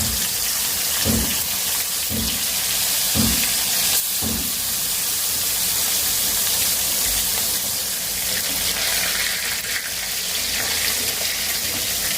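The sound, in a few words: fish frying in oil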